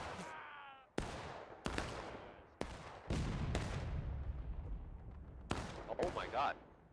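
Massed rifle volley fire in the War of Rights video game: several sharp, loud cracks in close succession, each with a rolling echoing tail, followed by scattered shots, with a voice calling out near the end.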